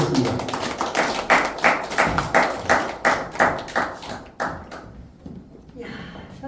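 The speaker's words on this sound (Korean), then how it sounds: "다시 2교시 박수로 또 강재현 교수님 모시겠습니다" Audience applause in a songwriting class lecture hall welcoming a professor, a run of dense, rhythmic clapping bursts that swells then fades to scattered claps near the end.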